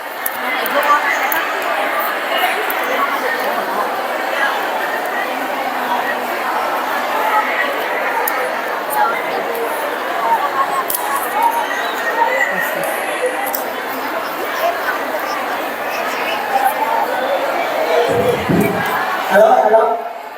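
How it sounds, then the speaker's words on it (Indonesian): A large crowd of women in a mosque cheers and chatters continuously and loudly, a dense wall of overlapping voices with shouts rising and falling, waiting for a preacher at a big religious gathering in Ciamis. "Sorak-sorai ibu-ibu."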